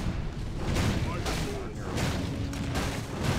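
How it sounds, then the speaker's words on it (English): Booming cannon tower fire in Warcraft 3 pounds away in a steady series of heavy blasts, with a voice talking over the barrage. "purple's got cannon towers all over the place."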